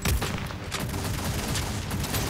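Rapid gunfire in Aliens: Fireteam aimed at a capacitor, a dense, loud volley of shots rattling continuously over a couple of seconds with no pauses or speech.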